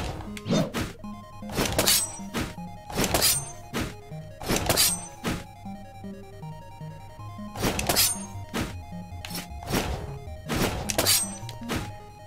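Daggers thrown at targets in the video game Rogue Legacy land as a run of sharp, punchy thunks and breaking crashes in quick bursts, set over steady game music with no talking.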